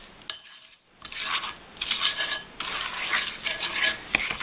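Cookie dough with softened butter being stirred in a mixing bowl, giving repeated scraping and clinking strokes of a utensil against the bowl, close and moderately loud, with a short pause early on and no talking.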